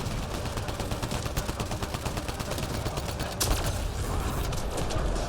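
Rapid gunfire in the sci-fi shooter game Mass Effect: Andromeda, a dense continuous stream of sharp automatic shots with a louder burst near the middle.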